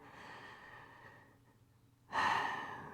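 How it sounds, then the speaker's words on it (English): A yoga student breathes slowly during a flow practice for acid reflux: a soft, airy exhale fades into near silence, then a louder, sharper breath or sigh rushes in close to the microphone near the end. "just take a couple of breaths here"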